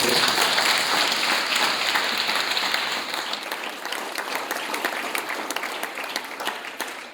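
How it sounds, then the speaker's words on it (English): Loud, sustained applause from an audience at a school drama competition awards presentation, starting strong and gradually thinning into scattered claps. "Can we have a round of applause?"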